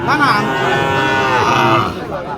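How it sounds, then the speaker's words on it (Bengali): A Gir cow moos loudly and close by, a long drawn-out low call with rising and falling pitch, followed by a second moo. "এই যে একটি গির গরু"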